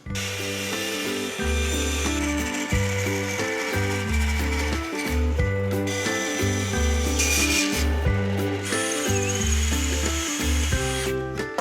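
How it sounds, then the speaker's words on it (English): A big bandsaw makes straight cuts through wood letter shapes, a loud sustained whirring hum with rhythmic low pulsing as the blade feeds through the wood, continuous and close with no talk. "Now I've got a big bandsaw here. This will do my straight cuts"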